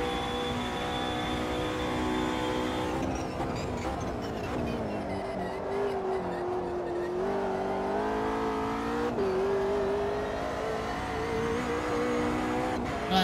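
A race car in Automobilista 2 at Interlagos, its engine note climbing steadily through the gears in long rising sweeps, loud and close, with no voices over it.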